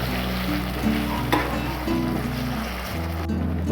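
Pointed gourd fries in oil in a pan with a loud, steady sizzle while a utensil stirs it, adding occasional scraping knocks; the lid comes off near the end.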